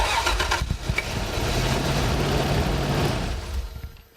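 A car's starter motor cranks the engine on a starting-system test, a steady churning drone lasting about four seconds with a pulsing low rumble, then cutting off near the end; no voices.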